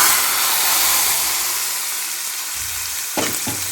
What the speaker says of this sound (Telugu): వేగిపోయింది ఇప్పుడు దీన్ని పులుసులో పోసేద్దాం